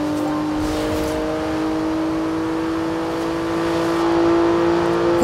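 A Porsche cruising on a highway in the Forza Horizon 2 video game, its engine holding a steady, tonal drone with a faint rise in loudness toward the end, heard alone without talk.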